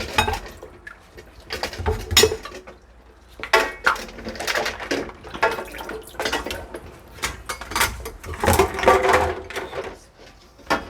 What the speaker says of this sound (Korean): 먼저 담갔었던 그릇들을 빼놓고